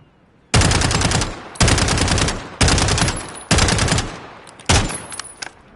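Automatic gunfire from a weapon in Call of Duty rings out in five loud, rapid bursts of roughly a second each, separated by short pauses and with no voices.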